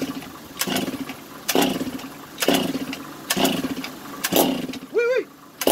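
A Stihl MS 580 chainsaw engine is pulled over repeatedly in a rhythmic series of starter-cord rasps and brief sputtering turns that never catch, followed by a short whirring whine near the end.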